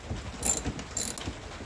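A hand ratchet works a 13mm nut off a Hurst Comp Plus 2 shifter, giving a few quick close clicking strokes in a short burst with faint metallic jingles.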